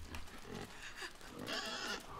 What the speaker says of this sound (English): Oh shit, the pig is out.